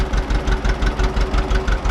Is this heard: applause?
no